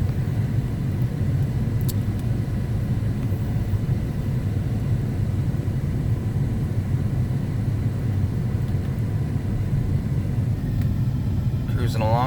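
A 1991 Cadillac Sedan Deville cruises at about 30 mph, giving a steady low road rumble and engine drone throughout, moderately loud with a faint voice near the end.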